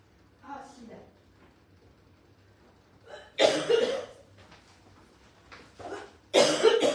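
A woman coughs in a kitchen in several loud harsh bursts, with quieter throat sounds between and long pauses.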